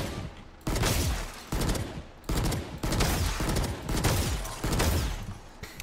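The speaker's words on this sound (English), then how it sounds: "this is the Bulldog. Has that same like 4 burst as the Stinger does" Rapid Bulldog rifle bursts from Valorant crack out in loud, close clusters, several volleys separated by short pauses, with no voices.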